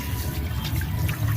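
Water runs steadily while a pet rabbit named Lily is bathed, a continuous low splashing wash close by with no voices.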